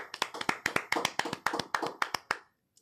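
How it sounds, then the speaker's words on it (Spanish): Close, crisp clapping at the end of a Spanish-language podcast, a brisk run of about fourteen sharp claps from just a few hands that stops abruptly, leaving near silence. "Fuerte aplauso"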